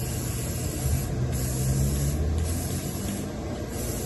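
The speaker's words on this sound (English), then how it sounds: "we're just going to spray magenta on the side" Magenta spray paint is sprayed onto a large foam orchid flower, giving a steady close hiss that runs continuously with only brief dips and no talking.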